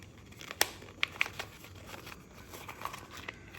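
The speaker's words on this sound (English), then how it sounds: "Give it a good crumple" Paper being crumpled by hand for a full moon release ritual, heard as a few sharp crinkling snaps over a soft, steady rustle at close range.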